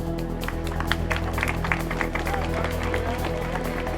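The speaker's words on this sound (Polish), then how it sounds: "Gorące brawa!" Crowd applauding at the finish of a 24-hour sports festival, with dense scattered claps running steadily through at moderate distance over a constant low hum, and a voice faintly present beneath.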